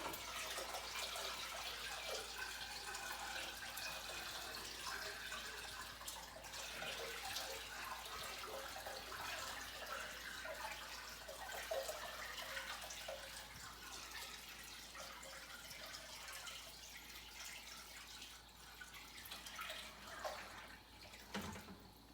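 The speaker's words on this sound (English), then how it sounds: "we're gonna dump the salt water, fresh salt water back in" Fresh salt water poured slowly from a bucket back into a reef tank, a continuous soft rush and trickle of water that stays faint and steady for about twenty seconds.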